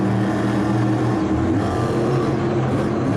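A monster truck at a Monster Jam night show in Houston, Texas, apparently running rough, gives a loud, steady engine roar with no talk.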